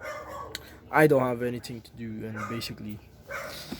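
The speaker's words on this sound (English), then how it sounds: "sorry for the dogs barking or anything like that" Dogs bark and yip with a few whimpery notes, fairly close, mixed with a person speaking over them.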